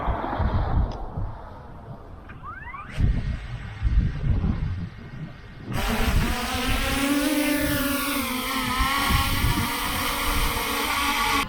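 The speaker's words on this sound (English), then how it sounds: "I'm gonna go ahead and put this Mantis G up in the air and test the ability to handle the wind" A Yuneec Mantis G drone flies in strong Tropical Storm Nestor winds. Gusty wind buffets the microphone, then a steady, high rotor whine rises and holds over the rushing wind.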